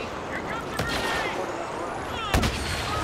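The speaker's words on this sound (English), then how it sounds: "Ah, there was a shot." Gunfire in the Star Wars Battlefront video game: a sharp single blast near the end stands out over a busy, continuous battle soundscape, with an earlier crack around the middle.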